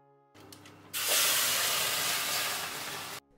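A glass of water poured into a 250-degree oven around a semolina sourdough loaf bursts into a loud, close, steady hiss of steam that lasts about two seconds and then cuts off abruptly after a faint clatter.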